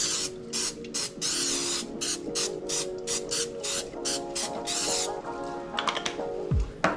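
Cooking spray hisses into a loaf pan in a series of short, rapid bursts, about a dozen quick spritzes in close succession, with light clatter near the end.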